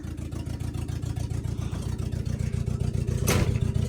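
An International Scout's engine runs steadily close by with a rhythmic low throb, then pulls away as it drives off, with a brief bright burst near the end.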